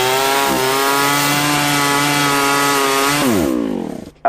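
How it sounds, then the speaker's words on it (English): A chainsaw played as a sound effect runs with a loud, steady buzzing drone, dipping once briefly, then revving down and cutting off near the end, with no voices over it. "It's a chainsaw."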